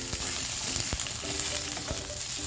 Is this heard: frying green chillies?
yes